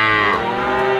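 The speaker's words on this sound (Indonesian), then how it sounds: "Ini adalah kerbau." A water buffalo gives one loud, close, drawn-out moo that fills the whole moment, slightly falling in pitch midway, with no other sounds around it.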